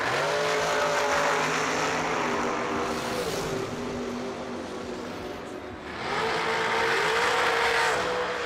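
Race cars roar past on a track during a racing event, their loud engines rising and falling in sustained passes with a brief lull in the middle. No one talks over the noise.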